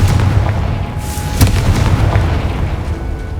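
Confringo fire spell explosions in Hogwarts Legacy, a loud continuous rumbling boom with sharp bursts and pops on top, close and dense throughout.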